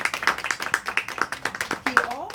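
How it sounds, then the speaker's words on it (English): Audience applause at a book signing, a steady patter of hand claps lasting a couple of seconds, fairly close, with a voice briefly rising near the end. "Round of applause, please, for him."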